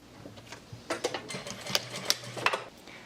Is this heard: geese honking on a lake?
no